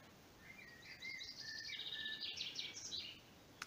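Faint birdsong outdoors: several high chirping phrases overlap for a few seconds over a steady background hiss, with no voices.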